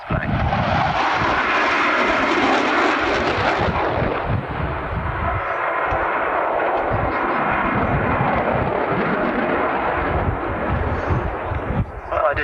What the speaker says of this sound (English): we welcome Tornado into the display